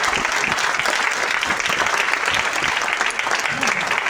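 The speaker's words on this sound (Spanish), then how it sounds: "Yo creo que merece un aplauso." Church congregation applauding during a Spanish-language sermon, a dense, steady wash of clapping from many hands that holds even and loud for the whole stretch without pause.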